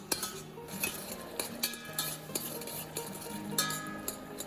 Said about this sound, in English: Cook over low heat, stirring gently until the blueberries release their juice and become softer.